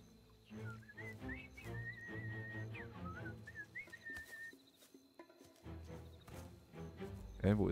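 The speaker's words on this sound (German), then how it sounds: "Ich habe jetzt auch hier Pfeifen gehört." Whistling in the video game Mafia: Definitive Edition, a clear melodic tune of sustained and sliding notes over game ambience and talk, fading out after a few seconds.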